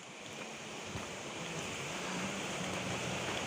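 Steady broadband roar of a waterfall beside a river crossing on the Gunung Slamet forest trail via Guci, a continuous rushing wash with no pauses, heard close and alone.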